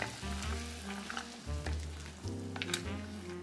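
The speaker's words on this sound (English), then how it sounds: "And bring this back up to a simmer." Mushroom gravy coming back up to a simmer in a pan, a soft steady bubbling sizzle with low rumbling tones and occasional light stirring, quiet and close.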